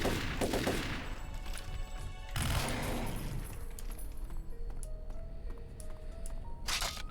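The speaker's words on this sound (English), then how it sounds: "Guess I won't particularly care about me chucking explosive rounds their way." Explosive rounds fired at fire lizards in Turok 3: Shadow of Oblivion, loud booming bursts at the start, middle and end over a dense, continuous rumble of game noise.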